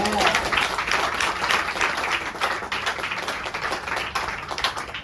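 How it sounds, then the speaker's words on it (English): Guests at an office opening for a rehabilitation and community service department give a round of hand clapping, a dense, steady burst of applause sustained across the whole stretch. "Another hand clap for the boys, please."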